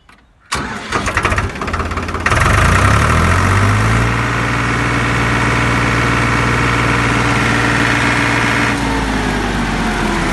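A Euro Powertrac 42 Plus tractor, self-starting with low hours, cranks and fires up, then settles into a loud, steady diesel idle close by with no talking.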